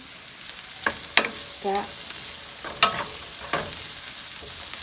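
Onions and peppers frying in a pan give a steady, quiet sizzle, broken by a few sharp scrapes and clinks as they are stirred and flipped, close by with no clear talk.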